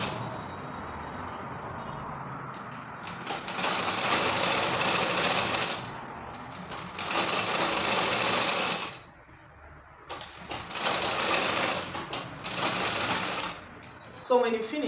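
A sewing machine stitches a female trouser zipper in bursts of fast, even needle chatter, three main runs separated by short pauses, close and fairly loud, with a voice speaking softly between passes.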